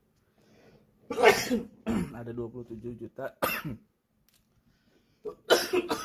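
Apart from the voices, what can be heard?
coughing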